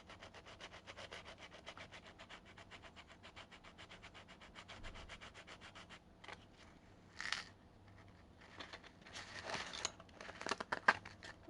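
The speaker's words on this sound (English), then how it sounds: "I need to use my sandpaper and then the two parts will match." Sandpaper rubs by hand on parts of a custom 1956 Ford bus die-cast toy model, a quick rhythmic scratching of regular close strokes that later turns into irregular, slower scrapes, faint and close with no talk.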